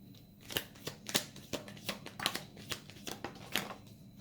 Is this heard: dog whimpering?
no